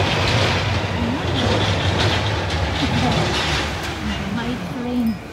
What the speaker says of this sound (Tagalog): Maingay kasi nasa ilalim ako ng train.